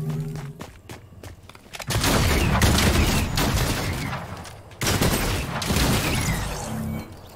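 Dense bursts of gunfire in the Fortnite video game: a few quiet taps, then two loud sustained volleys of rapid shots close by, separated by a brief lull, with no talking.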